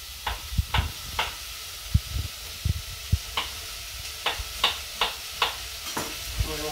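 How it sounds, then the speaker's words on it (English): Carrots high-frying in oil for a carrot and coriander soup, with a steady low sizzle under a run of sharp, close stirring clicks and scrapes of a utensil against the pan, roughly one every half second, no talking. "We're going to high fry them for about 3-4 minutes"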